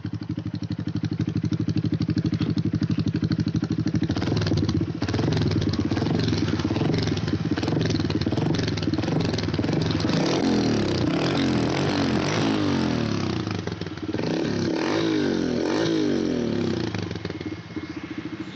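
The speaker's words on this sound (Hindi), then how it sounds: "सो चलिए आवाज़ सुनते हैं पहले बाइक का, फिर बात करते हैं।" A Hero CBZ motorcycle converted into a cafe racer with a modified exhaust idles right up close after its electric start, a loud, deep, bassy, rapidly pulsing thump that runs on steadily.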